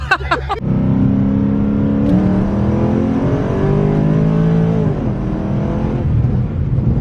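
A 1000hp nitrous-equipped police car engine revs hard and loud up close, a sharp blip followed by a sustained high rev that holds, dips briefly and climbs again, with no talking over it.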